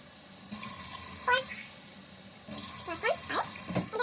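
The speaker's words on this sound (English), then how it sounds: "Then I'm gonna add 5 cups of water." Water poured into a rice cooker, a splashing, running stream that comes in short bursts separated by pauses, close by, with a voice talking over parts of it.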